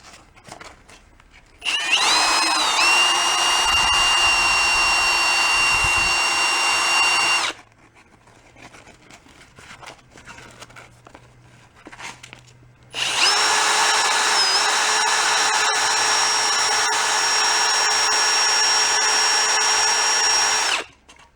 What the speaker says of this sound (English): Probably chuck this up in a drill and we'll run some sandpaper around it.